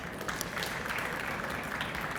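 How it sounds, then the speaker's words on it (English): Audience at a tech talk on AI and fusion energy applauding the speaker, a steady, moderately quiet patter of clapping that holds evenly throughout. "Paolo definitely deserves another round of applause"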